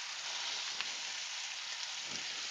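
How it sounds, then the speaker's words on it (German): Bacon (pork belly) and onions sizzle in a frying pan, a steady bright hiss of frying fat with a few small pops, close and continuous, with no talking. "Jetzt kommt zuerst mein Bauchspeck, also Bacon und die Zwiebel direkt hinterher"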